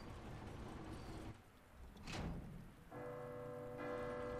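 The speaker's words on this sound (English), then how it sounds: "Ring that bell. The bell tolls for thee." A bell tolls in Resident Evil 2 Remake amid a rainy, hissing game ambience, with one broad struck tone in the middle followed by a ringing sustained hum, and no talk.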